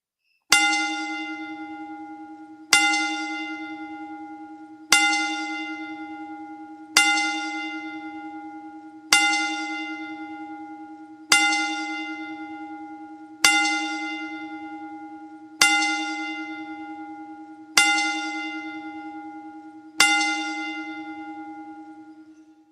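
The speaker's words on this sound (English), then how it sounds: "by giving the 10-bell salute" A church bell tolls ten times as a memorial salute, each loud clear strike ringing out and decaying slowly before the next, evenly spaced about two seconds apart, with no voices.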